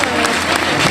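Audience applause at a pastry award ceremony at the Salon du Chocolat, a dense, steady wash of clapping filling the room throughout, with some voices mixed in.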